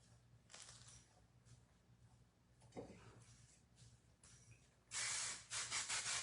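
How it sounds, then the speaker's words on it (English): Hairspray sprays in a couple of short hissing bursts, faint at first and then a louder close burst near the end, over quiet room background. "we need more hairspray"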